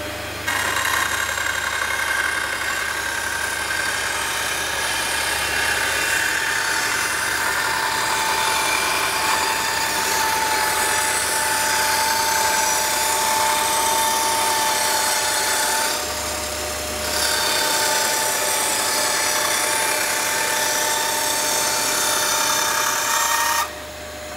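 A Parkside band saw rips through 2 cm oak hardwood, giving a loud, steady motor whine with a brief dip partway through as the cut pauses before resuming at full strength.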